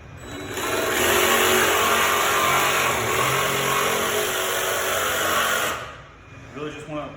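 A jigsaw cuts a circle through a piece of wood, a loud continuous buzzing rasp of the blade that runs steadily for several seconds, then stops, leaving faint background sounds.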